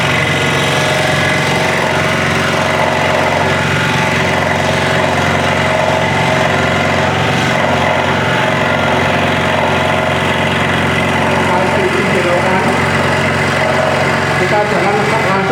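A scroll saw cuts wood with a continuous, dense, buzzing mechanical drone that stays loud and steady throughout, the blade's rapid vibration filling the room at close range.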